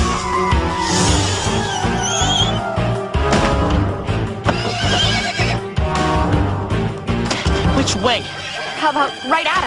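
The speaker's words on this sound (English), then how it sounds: "A miniature seeing eye horse." In a Disney cartoon, a miniature seeing-eye horse whinnies amid busy scene noise, while voices talk loudly over and around it throughout.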